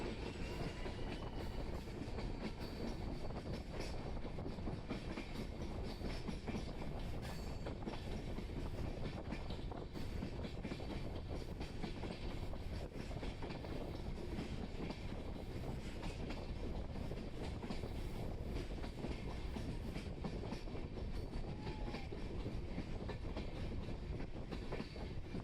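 A train rolls steadily along the rails near Dudhsagar Waterfalls in Goa with a constant, dense rumble and faint clickety-clack, heard alone from on board with no voices.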